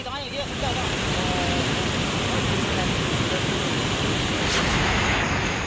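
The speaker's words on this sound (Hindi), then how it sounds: "पानी का ये रौद्र रूप अपने साथ सब कुछ बहा ले जाने पर उतारू।" Floodwater from a cloudburst in Chaitu village, Dharamshala, Himachal Pradesh, rushes in a loud, continuous roar that runs unbroken for the whole stretch, with no pause.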